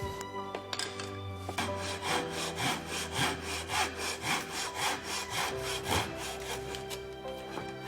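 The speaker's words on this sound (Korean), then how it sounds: "양 끝에는 요걸 이제 사선으로 잘라내야 돼요" Hand saw cutting diagonally through wood for traditional Korean wooden furniture, a steady series of about a dozen rhythmic rasping strokes, close and clear, with no talk.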